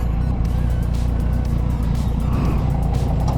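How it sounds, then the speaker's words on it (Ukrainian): A motorcycle heard from a ride in Lviv, its engine droning loudly and steadily nearby as it passes, with a dense low rumble and road noise throughout. "О, хтось там їде на моті."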